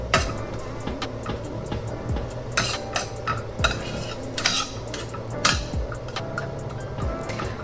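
Ground turkey being mixed with coriander in a pan, a steady run of close scraping and clattering utensil strokes against the cookware, with a faint background hum.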